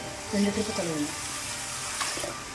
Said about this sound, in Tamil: நல்லா ஒரு ரெண்டு டைம் தண்ணி ஊற்றி கழுவுங்க